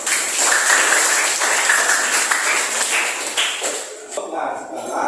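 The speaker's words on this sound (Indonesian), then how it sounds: "Memberi tepuk tangan dong." Schoolchildren clap in a classroom: a brisk, bright round of applause that tails off into scattered claps and chatter.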